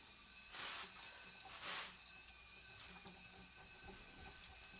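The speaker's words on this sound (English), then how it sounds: "So we'll let this drip and dry." Water dripping and running off a freshly rinsed, silvered telescope primary mirror, with two short splashy bursts early on, then a quiet patter of scattered drips over a steady background hiss.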